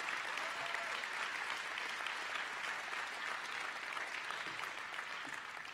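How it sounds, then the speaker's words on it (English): An audience at a college honor society induction ceremony applauds in a continuous, even round of clapping, heard at a distance and fairly quiet. "Let's give a huge round of applause to the success of our GCU chapter"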